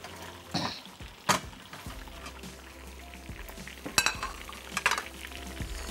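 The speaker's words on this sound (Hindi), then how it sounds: "अब ये यहाँ पे फ्राई का अमल हो रहा है" Garlic and carrots fry strongly in a pan, giving a low steady sizzle broken by several sharp clanks and scrapes of a utensil stirring against the metal, close by.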